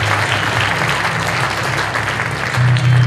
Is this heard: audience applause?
yes